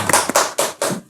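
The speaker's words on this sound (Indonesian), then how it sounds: "Tepuk tangan dulu dong." An audience clapping hands at a local event in Bogor, a short burst of four separate loud, close claps in an uneven rhythm.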